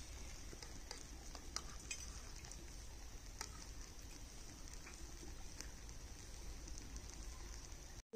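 Ghee heats in a pan in a village kitchen, giving a faint, steady sizzle and crackle with scattered tiny pops throughout.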